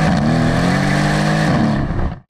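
A Brabus 600 tuned Mercedes-AMG C63S convertible engine revs hard in a loud, close, raspy burst, the pitch climbing and holding before cutting off abruptly after about two seconds.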